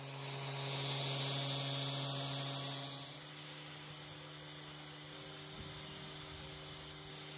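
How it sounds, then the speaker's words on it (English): A paint sprayer applies white primer to a wooden coffee table, giving a steady airy hiss that eases off partway through over a constant electrical hum. "Using a sprayer opposed to a brush is a great way to not only improve your time and efficiency, but also the quality of the finish you get"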